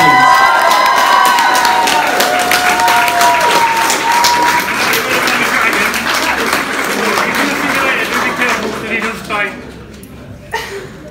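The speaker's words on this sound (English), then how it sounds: "can we give him a round of applause for Hagrid, please?" At a comic con in Bury St Edmunds, an audience applauds a handmade Hagrid costume: loud, close clapping mixed with cheers and voices, fading and thinning toward the end.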